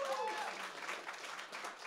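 Applause at an outdoor big band jazz concert at Jazz Camping Kalatówki, a moderate patter of clapping from the audience with faint voices mixed in, fading slightly toward the end.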